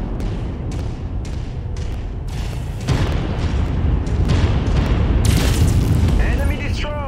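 A mech blows up in MechWarrior 5 with heavy booming bursts that build from the midpoint into a loud, sustained rumble, alongside repeated sharp impacts and a voice speaking.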